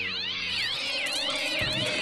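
Many overlapping cat meows from the Minecraft CrazyCraft modpack, a steady chorus of rising and falling cries that fills the whole stretch with no talking.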